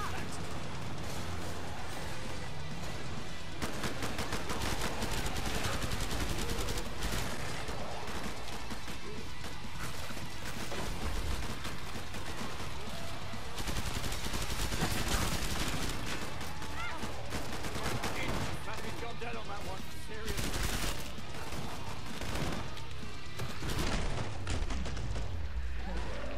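Continuous rapid gunfire in Killing Floor 2, dense crackling shots and impacts in a busy co-op fight on a jungle map, steady and loud throughout with voices mixed in.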